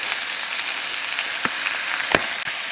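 Chicken thighs and garlic fry steadily in a pan over a moderate flame, a dense, even sizzle with a couple of brief utensil clicks near the end.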